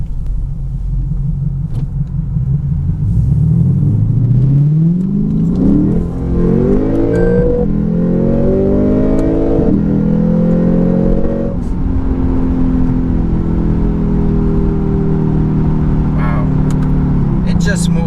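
A 467 hp Lexus GS-F V8 sports sedan accelerates hard from inside the cabin, its engine note climbing through rising revs with shift breaks, loud and continuous, while someone talks over it.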